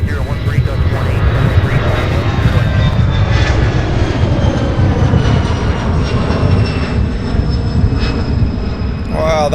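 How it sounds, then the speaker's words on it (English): A heavy aircraft takes off at speed at Louisville's SDF airport, its engine roar loud and continuous throughout, with a thin, crackly radio-like voice underneath. "Wow, that one taking off with some speed"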